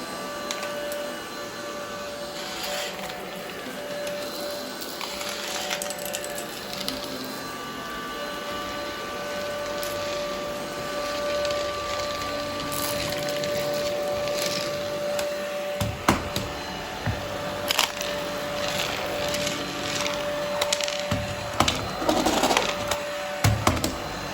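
An Easine iLife G50 cordless vacuum running with its side brush, a steady whirring hum throughout, moderately close, with scattered knocks and rattles toward the end.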